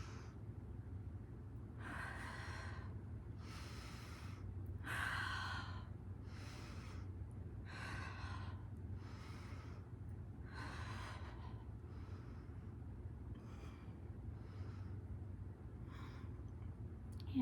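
Forceful rhythmic breathing during a kundalini chakra-clearing kriya, about a dozen strong, breathy exhalations spaced roughly a second apart over a steady low hum, close and clear with no speech.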